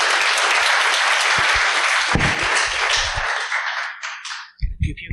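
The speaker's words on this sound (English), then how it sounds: "All right, everyone, give a big round of applause." An audience at a tech talk gives loud, dense applause that holds steady, tapers off and stops after about four seconds, followed by brief speech.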